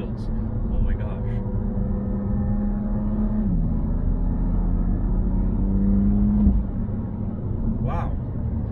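A 2019 BMW M2 Competition's engine hums and shifts pitch while driving around a bend, with a steady road rumble throughout and brief revving changes midway.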